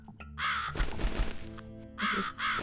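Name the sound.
bird cawing in The Cat Lady video game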